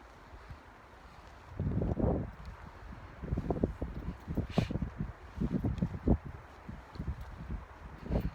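Gusts of wind on a warm, breezy November afternoon buffet the microphone in uneven bursts, rumbling low over a quiet outdoor background, rising and falling irregularly with no talking.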